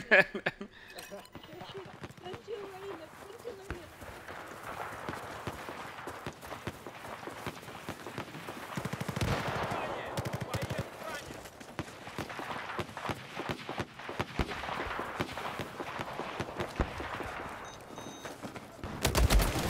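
Rapid gunfire from The Darkness multiplayer, with overlapping bursts and scattered single shots running nearly continuously at a steady, moderate level throughout.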